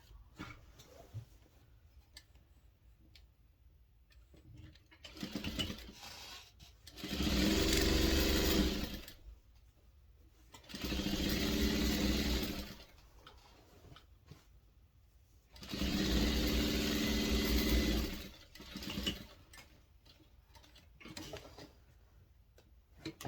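A sewing machine runs in three separate bursts, each a few seconds long, stitching binding onto a quilt with quiet pauses between runs.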